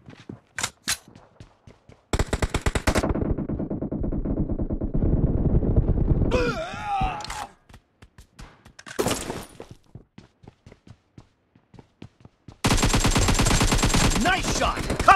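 Gunfire in the mobile battle game Battlegrounds Mobile India, sharp single shots and rapid automatic bursts, loud and close, separated by short quiet gaps.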